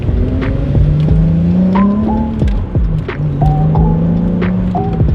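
A Volkswagen Corrado VR6 on a drive, heard from inside the car: the engine revs rise and fall through several gear changes, steady and close, with road noise underneath.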